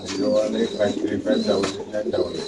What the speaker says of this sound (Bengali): তার প্রাণপ্রিয় আদনান ভাই রেসার কবুতর লফটে